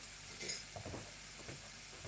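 Mushroom taco filling with jalapeno being stirred in a pan, a faint sizzle with a few soft scraping strokes, close and quiet with no talking.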